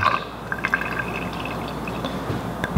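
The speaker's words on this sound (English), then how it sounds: "I'm just gonna pour some vodka in there and have it cover my vanilla." Vodka pours from a bottle into a jar over whole vanilla beans, a steady liquid trickle with small drips and glassy clinks, close by and without speech.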